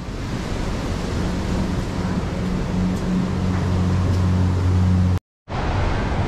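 Sea waves at Varkala beach, Kerala, give a continuous loud broadband surf wash mixed with wind buffeting on the microphone, a low steady hum underneath and a brief dropout near the end.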